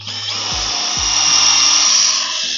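A power drill bores into a Huanghuali rosewood trunk on a tree farm, a loud, steady high-pitched whine with a couple of brief low thumps early on.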